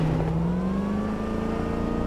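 Car engine driving in Cyberpunk 2077, a steady droning motor whose pitch rises slowly as it accelerates, loud and close with no talk.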